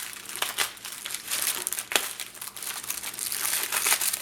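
Paper packaging on a parcel of scrapbooking mail crinkles and rustles as it is unwrapped, with sharp crackling bursts and steady handling noise up close, no talking.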